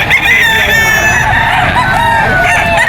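A golden boy sweater gamefowl rooster crows close and loud at a busy pet market. Its one sustained crow is layered over other birds calling nearby.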